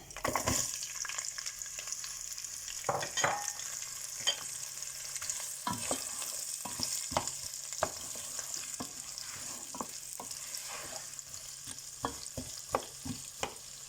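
Onions drop into hot oil already tempered with five-spice and cumin for a chicken and potato curry, giving a steady close sizzle with repeated sharp scrapes and clacks of stirring throughout, no voices.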